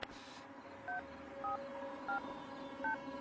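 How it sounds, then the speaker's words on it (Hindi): A telephone number is dialed on a keypad, producing a short sequence of about five separate two-tone DTMF beeps at an even, moderate pace over a quiet room hum. "यार तू फोन लगाएगा ठीक है, प्लीज?"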